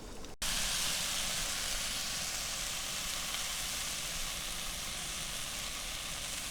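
Meat frying in a pan at a riverside bivouac camp, a steady, close, loud sizzle with hissing steam that holds constant throughout with no voices.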